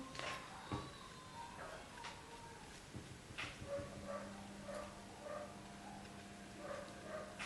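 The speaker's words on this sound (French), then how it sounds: "c'est le chien du voisin qui arrête pas de japper" A dog barks and yips off in the distance, short sharp bursts repeating irregularly over a low steady background hum.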